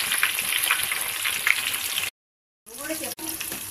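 Seasoning seeds, curry leaves, green chilli pieces and onion pieces sizzle and crackle in hot oil for a Telugu budam dosakaya curry, a steady close frying hiss broken by a brief silent gap.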